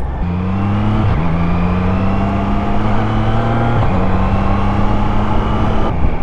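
Triumph Trident 660 motorcycle engine on stock exhaust running steadily and loud, with quick shifts and auto-blipped gear changes marked by brief dips in the drone around one, four and six seconds.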